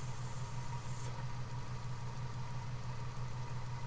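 A homemade electric motor with a second coil set spins at around 360 RPM, producing a faint, steady low hum with a constant droning tone and no talking.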